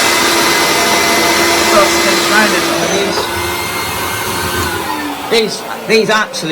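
A vintage Dyson vacuum cleaner runs with a loud, steady whine and airy roar, close to the listener. Near the end the motor dips and wavers, and someone talks over it briefly.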